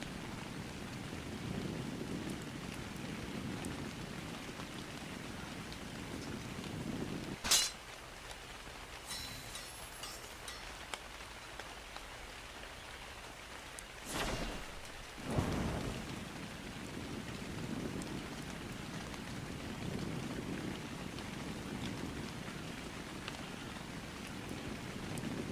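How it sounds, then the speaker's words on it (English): Steady rain falls in a video game, a constant hiss of drops on surfaces with occasional sharp cracks and thunder-like bursts breaking through, moderately loud and without talk. "The rain isn't helping my situation."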